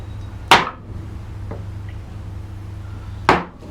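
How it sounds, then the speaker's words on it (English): A wide, inch-wide number 7 carving gouge slices into wood while shaping crossed S-scrolls, giving two crisp, close cuts several seconds apart over a steady low hum. "tilt the gouge over to take out"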